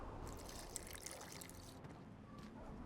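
Water is poured into an alchemy flask in The Witcher 2 video game, a soft, faint liquid trickle and splash running steadily for a few seconds.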